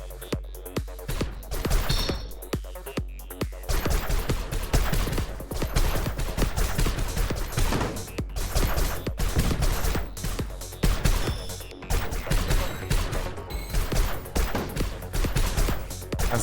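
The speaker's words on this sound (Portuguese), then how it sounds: "Agora eu tô tacando um monte de tiro aqui" Rapid, dense gunfire from a ship in the Brazilian roguelike shooter Fuel Me Up, loud and continuous bursts of shots that run almost without pause.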